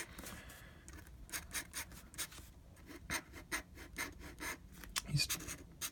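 Pen nib scratching across paper while inking a jester drawing, a series of short dry scritchy strokes in an irregular rhythm, close up and quiet.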